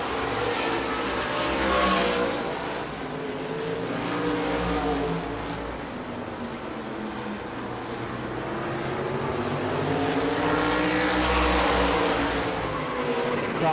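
Late model race cars roar around New Smyrna Speedway in the evening's final race, a loud continuous pack of engines with rising and falling pitch as cars sweep past, swelling near the start and end.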